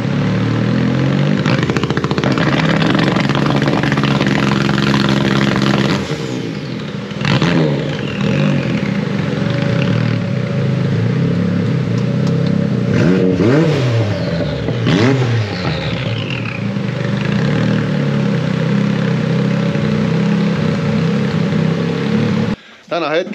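A Maverick engine fitted with a new muffler runs on a dyno in freezing conditions, revving repeatedly in rising and falling sweeps. Each pull is loud and close, with brief drops between runs and voices talking nearby.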